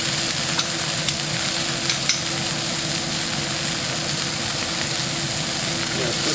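Steak for Steak Diane searing in a hot pan, a continuous loud sizzle with occasional stirring clicks, close up, over a low steady hum.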